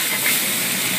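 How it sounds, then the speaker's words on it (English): Wine hits a hot pan to deglaze it, releasing a loud, steady rush of steam that hisses evenly for the whole moment with no voices. "I'm going to hit it with some wine to deglaze it, to get all the flavors stuck on the bottom real quick."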